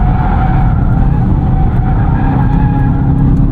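Hankook tires rolling at speed beneath a manual 2025 Volkswagen Jetta GLI, a loud, steady road roar with a faint whine of tire noise and no speech.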